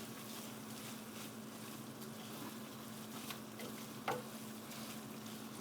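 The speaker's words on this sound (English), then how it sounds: "you simmer really high, on high heat, so that the eru can blend with the spinach" Eru with spinach simmering over high heat in a pot, a steady low bubbling and sizzling hiss throughout with a brief clink partway through.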